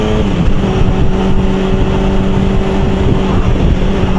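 A very old motorcycle with a worn, sloppy gearbox runs steadily nearby, its engine droning loud and continuous with a constant hum, ridden outdoors on a nice day.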